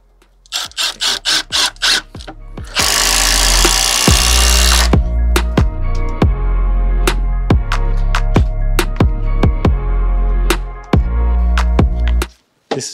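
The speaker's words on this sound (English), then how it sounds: "So we're gonna tech screw every one, opposing sides each riser." A power drill drives tek screws into timber stair risers in short bursts of whirring, then one long sustained run followed by many sharp clicking pulses, loud and close, with no speech.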